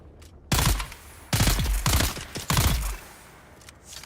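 Rapid bursts from the player's gun in Dune Awakening: four loud, punchy volleys in quick succession, each a cluster of close shots with booming low end, then the firing stops and the scene falls quiet.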